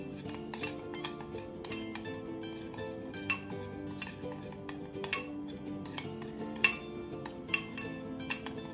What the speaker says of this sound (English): let's go ahead and mix these seasoning together